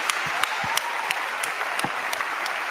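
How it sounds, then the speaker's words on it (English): A crowd applauds students at a Martin Luther King Jr. Day celebration, the dense clapping broken by a few sharp, louder claps standing out near the microphone. "let's give them a round of applause"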